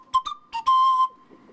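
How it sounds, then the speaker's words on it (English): Small panpipe, a short breathy flute tone played as a few quick notes followed by one held note, close and alone. "gets a little panpipe."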